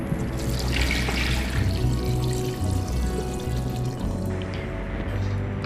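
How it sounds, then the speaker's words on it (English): One liter of water is poured into an electric pressure cooker over chicken and herbs, a continuous close splashing stream with music playing softly behind it. "and 1 liter of water."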